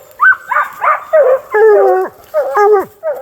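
Hunting hounds in the British Columbia wilderness give a string of close, high yips, whines and short barks in quick bursts, one rising into a drawn-out whimpering howl.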